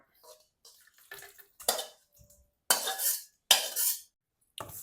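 Pork and shrimp are dropped into a bowl of winged bean salad with a series of close, separate clinks, scrapes and wet slaps, loud bursts spaced by brief silences, with no talking.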